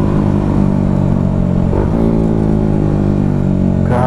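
Bajaj Dominar 400 motorcycle fitted with a custom 61mm exhaust pipe, a loud, deep, steady engine rumble held close throughout, with a brief rev shift near the end.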